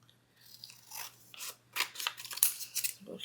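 Scissors snipping out a thin piece of glitter paper for a handmade birthday card, a quiet close series of short crisp cuts that builds toward the end.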